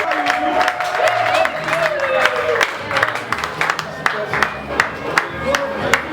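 A crowd gives sustained applause for an award winner at a ceremony, with scattered claps and cheering mixed with voices talking over it and a faint sustained tone underneath.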